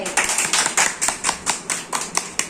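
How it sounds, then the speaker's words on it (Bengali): A group of children clapping their hands together in a classroom, a run of about ten distinct, crisp claps in an uneven rhythm, fairly close and loud, with no talk over them. "সবাই একটা জোরে হাততালি সবার জন্য"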